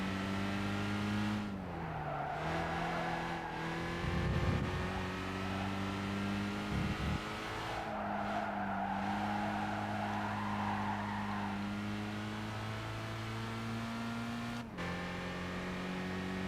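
A race truck in Gran Turismo 5 droning steadily through laps, its engine holding a sustained tone that dips and rises with gear changes while tires squeal through corners.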